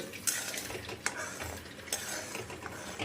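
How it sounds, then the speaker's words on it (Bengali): Melted jaggery (gur) being stirred in a pan for Bengali arsa pitha: soft bubbling hiss with a few distinct utensil scrapes and clinks against the pan, fairly quiet and close. "গুড়টা আমাদের সম্পূর্ণ গলে গেছে এবার এটা কিছুক্ষণ আমরা নাড়তে থাকবো"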